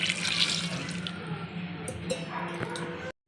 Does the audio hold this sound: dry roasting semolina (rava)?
no